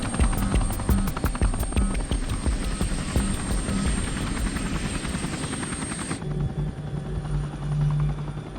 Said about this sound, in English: Just prepping the helicopter now and getting ourselves ready with life vests